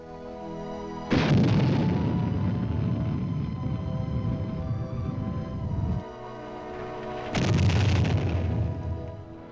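Modern military artillery, including a La Crosse missile system, fires twice as loud booming blasts several seconds apart, each followed by a long rumbling roar that fills the space between.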